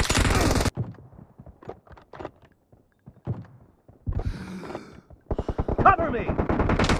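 Gunfire in the PUBG Mobile shooter, with an M24 sniper rifle in play: a loud opening burst, then scattered sharp shots and clatter, with game voice lines over the later part.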